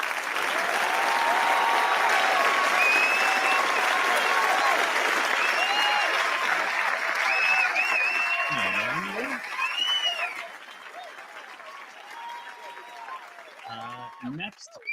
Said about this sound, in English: Can we give one big round of applause to Bladesong and Bots and Bloom?